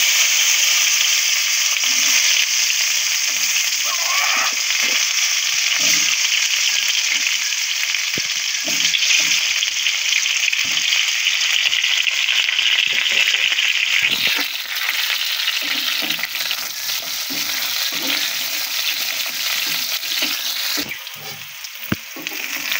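Cut eggplant and potato pieces fry in hot oil, giving a loud, close, unbroken sizzle and crackle that runs throughout with no talking.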